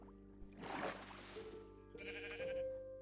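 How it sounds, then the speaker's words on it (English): A sheep bleats in a blocky survival video game, one wavering bleat followed by a second higher call, with a soft splashing rush in between, fairly faint and with no talk over it. "Sheep scare me."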